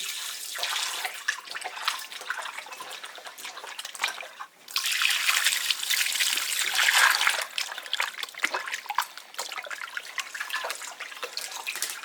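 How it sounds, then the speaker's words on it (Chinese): Water runs and splashes steadily, a continuous rushing stream with brief shifts in intensity, as pig stomach is rinsed under it. "加点水清洗干净"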